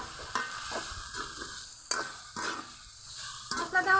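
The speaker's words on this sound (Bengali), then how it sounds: "লবণ, হলুদের গুঁড়া, মরিচের গুঁড়া, সব কিছু আবার কষিয়ে নেব।" Small fish fry in a pan with salt, turmeric and chili powder while being stirred, a soft sizzle running under a few distinct scraping strokes and taps of the utensil, close and fairly quiet.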